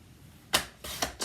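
Card stock strip being cut on a paper trimmer: three or four short, crisp slicing clicks in quick succession, close and fairly loud against a quiet room.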